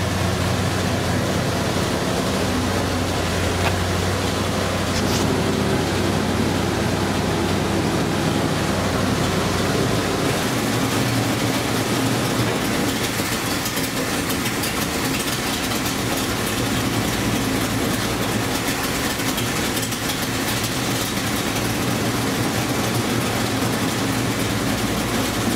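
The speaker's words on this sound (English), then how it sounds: "It should be warm enough now to go down to an idle." A NASCAR stock car Impala engine settles into a warm idle: a loud, steady, throbbing rumble with a deep low drone that runs unbroken, with no voices.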